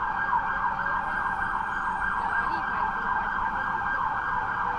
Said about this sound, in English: A lot of sirens, but the emergency services can't get anywhere because of all the traffic